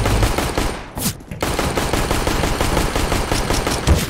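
Rapid automatic gunshots in a CS:GO match, loud close bursts of fire continuing almost without pause, broken by a short gap around one second before resuming.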